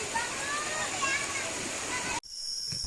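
River water rushing steadily beneath a suspension bridge at an eagle sanctuary campground near Bogor, a broad continuous wash that cuts off abruptly near the end, leaving a quieter hiss.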